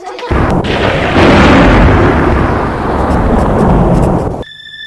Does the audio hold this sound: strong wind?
no